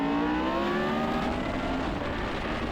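A 1976 March 761 Formula One car downshifting hard while racing at Laguna Seca, its engine a loud, close, continuous scream whose pitch steps down through the gear change, with no talk over it.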